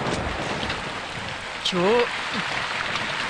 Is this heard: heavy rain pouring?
yes